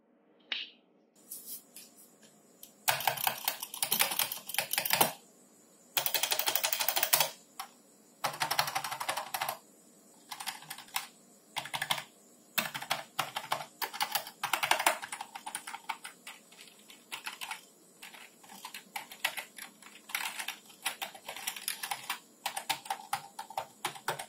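Typing on a Rakk Sari RGB rubber dome gaming keyboard that mimics a mechanical feel, rapid clicky keystrokes in bursts separated by short pauses, close and fairly quiet, with no talking.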